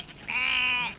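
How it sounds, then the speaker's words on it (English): Suffolk Down ram, a short-wool sheep breed, giving a single sustained, fairly loud bleat of about half a second with a wavering, nasal tone, heard alone without talk. "This magnificent Suffolk Down ram is an example of the short wool"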